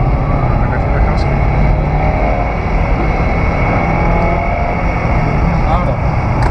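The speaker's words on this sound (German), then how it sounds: "Dann kannst du wieder Gas" A Subaru Forester on the Nürburgring, fitted with cheap tyres and stock brakes, gives a loud, constant engine and road roar heard from inside the car.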